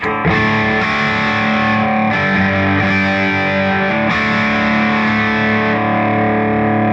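Electric guitar plays through a Boss Katana Artist MkII amp on its deep setting, sustained chords with a few changes, loud and close with no talk.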